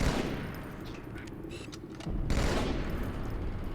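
Plasma pistol overcharge shots in the Halo 2 video game, a dense run of energy-weapon fire with a louder blast about halfway through, set against constant battle noise.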